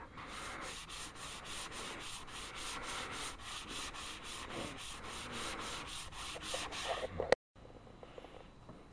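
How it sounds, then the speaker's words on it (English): Wood filler being hand-sanded on a Sony Trinitron XBR TV stand, a steady rapid back-and-forth rasp of repeated close strokes for about seven seconds, then a brief pause and a quieter stretch of light rubbing. "I'm finding out the best way of sanding it is not to try to eyeball it, but to feel it"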